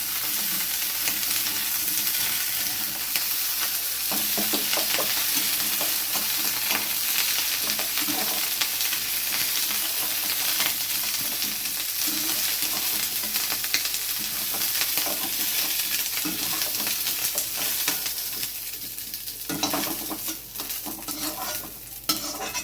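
Cauliflower florets frying in hot oil and being stirred in a pan, a loud, continuous close-up sizzle with steady crackling and scraping from the stirring throughout, no voices.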